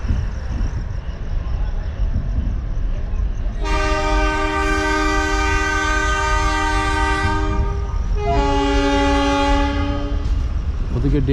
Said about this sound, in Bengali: ওদিকে ডেমো ট্রেনটাও ছাড়লো